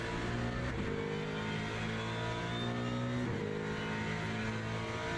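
A Mustang V8 race car engine in the video game Le Mans Ultimate at Sebring, droning steadily at high revs with a slight pitch shift partway through, loud and close throughout.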